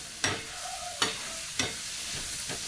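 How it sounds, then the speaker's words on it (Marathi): Egg bhurji frying and being stirred in a pan: a steady sizzle runs throughout, broken by three or four sharp scraping strokes of a utensil against the pan, close and fairly quiet, with no talking. "बघू शकता छान प्रकारे असं एक फ्राय होत आहे सगळं."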